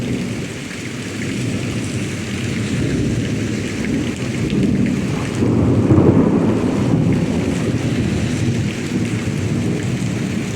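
A severe thunderstorm in Pittsburg, Kansas, seen from a porch: deep thunder rumbles and swells loudly in the middle over steady heavy rain, with no voices.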